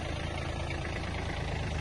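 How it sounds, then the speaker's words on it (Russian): An Iseki Japanese mini tractor engine idling, a steady, close, even rumble with no other sounds over it. "Запустим трактор. Трактор работает мягенько, без шумов у нас."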